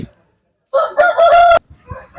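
A rooster at a country chicken market crows once, loud and close, a sharp rising call that breaks off abruptly, followed by a few faint clucks.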